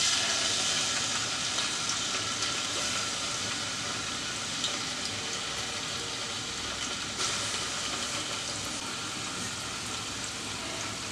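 Onions sizzle steadily in hot oil in a pan for motor polau, a dense, even frying hiss that holds close and constant throughout with no voices.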